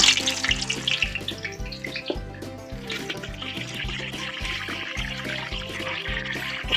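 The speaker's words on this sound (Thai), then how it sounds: "รายการต่อไปเราก็จะทอดเห็ดหอมนะคะ" Steady sizzling and crackling of mushrooms frying in hot oil, continuous and close, with faint rhythmic music playing underneath.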